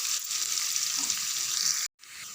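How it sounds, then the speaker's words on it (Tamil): Chopped onion softening in hot oil in a pan gives a steady, close, fairly loud frying hiss that cuts out abruptly near the end and then resumes more quietly. "வெங்காயம் நல்லா வதங்கட்டும்"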